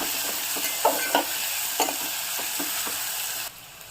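Chopped onion sautéing with salt in a pan for a field-bean masala rice, with a steady close sizzle and several distinct stirring scrapes. The sizzle drops quieter near the end.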